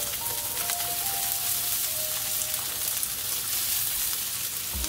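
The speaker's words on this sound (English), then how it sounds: "what I'm going to do now is I'm going to caramelize my onions" Onions caramelizing in a pan, a steady even sizzle and crackle like light rain, constant and close, with no voices.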